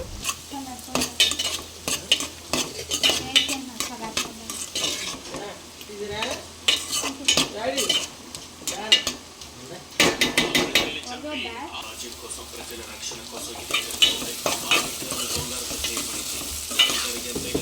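Bitter gourd pieces and onions sizzling in a pan while a spatula stirs them, with frequent scraping and clinking of metal on the pan, close and busy, a voice faintly underneath at moments.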